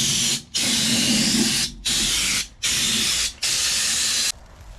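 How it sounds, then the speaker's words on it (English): Rust protection coating sprayed in four long bursts with short gaps onto an old Ford crew cab truck, loud hissing aerosol spray close by, ending with a quieter hiss. "I'll get in there with the extra nozzle and the 360 nozzle, kind of spray everywhere"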